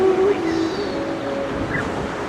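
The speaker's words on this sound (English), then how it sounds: "Listening to the ocean." Ocean waves at a seaside yoga session, a continuous rushing wash of surf with wind noise and a faint tonal hum early on, steady and fairly loud.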